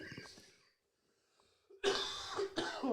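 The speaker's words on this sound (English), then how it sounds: "the cough just won't shift" A person with a lingering cough gives two harsh, close coughs in quick succession after a quiet pause. Brief speech-like sounds come before them.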